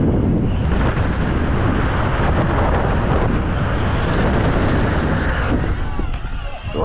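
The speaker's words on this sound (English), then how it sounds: "That's windy now, though." Strong wind roars steadily across the microphone at the Darkfest 2024 bike jump event, a dense, buffeting rush that continues for several seconds.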